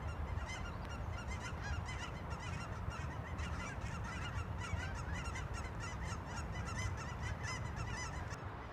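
A flock of geese honking continuously near a cemetery in an industrial area, many overlapping calls at a steady, busy rhythm, moderately distant and filling the scene, no talk.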